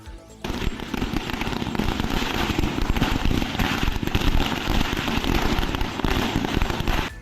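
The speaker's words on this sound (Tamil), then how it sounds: "பாஜகவினர் பட்டாசு வெடித்து பொதுமக்களுக்கு இனிப்பு வழங்கி கொண்டாட்டத்தில் ஈடுபட்டனர்" Dense, continuous crackling bursts of firecrackers set off by BJP supporters celebrating an election victory in the street, rapid overlapping pops and bangs sustained loudly throughout.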